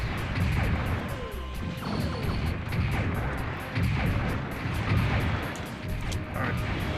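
A heavy repeated barrage fires in a 1970s-style mecha video game as a special Ace Shot super move, thudding cannon-like blasts that come steadily and loud, with no voices.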